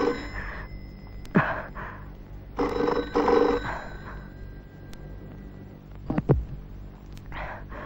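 A telephone rings indoors in a 1983 Hindi film scene, sounding as short repeated bursts of bell ringing, moderately loud against a quiet room hum, with a few soft knocks and movements between rings.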